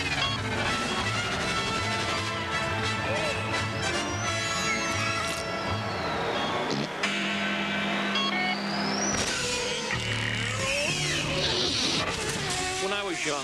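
Podracer engines from Star Wars: The Phantom Menace roar continuously, screaming past with whining pitch sweeps, revving surges and a crash-like burst, loud and dense throughout with no talking.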